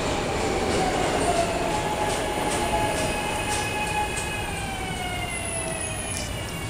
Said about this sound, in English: wait, here comes the train again